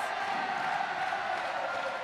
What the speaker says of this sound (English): If you can hear the crowd